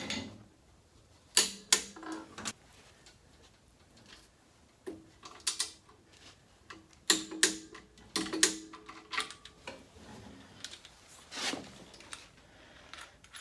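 A torque wrench tightens rear brake caliper bolts on a Toyota 4Runner to 76 foot-pounds. Close, crisp ratcheting clicks come in irregular bursts separated by quiet pauses, with no talking.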